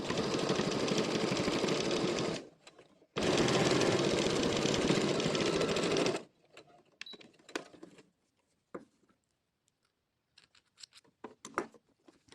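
A sewing machine stitches fabric with a one-millimetre seam allowance. It runs in two steady buzzing bursts of a few seconds each with a short pause between them, then gives way to scattered soft clicks and handling noises.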